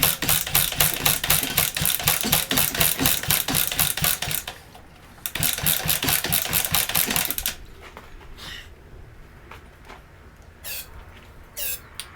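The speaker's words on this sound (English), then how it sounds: "So I'm gonna spray a bunch of starting fluid in here, choke it, and see if it will start." A Suzuki GS550 flat tracker motorcycle, sitting unused for years and primed with starting fluid and choke, cranks with fast rhythmic chugging, falls quiet briefly, cranks again, then fades to a lower rumble with a few scattered knocks and clunks.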